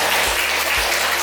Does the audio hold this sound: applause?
yes